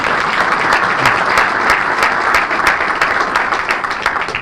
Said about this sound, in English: let's give Valerie a round of applause for all the work